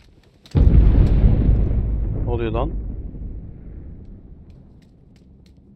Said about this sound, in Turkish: Yıldırım çarpıyor.